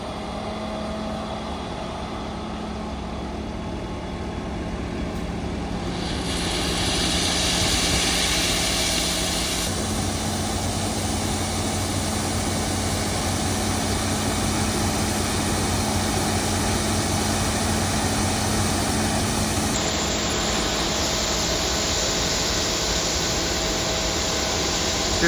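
A combine harvester's engine drones steadily at close range while unloading grain through its spout into a trailer in a spring bean field, a continuous loud rumble and roar that shifts tone partway through, with no talk.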